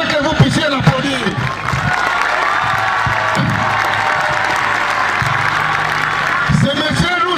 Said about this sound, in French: Je voudrais que vous puissiez l'applaudir.